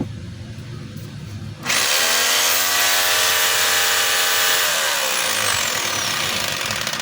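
A DeWalt D25032 rotary hammer set to drill mode starts up after a short quiet stretch, then runs with a loud, steady high motor whine right beside the listener.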